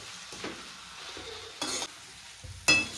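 Batata poha, flattened rice with potatoes, is stirred in a pan, with a spoon scraping and clattering in several short bursts over a soft sizzle.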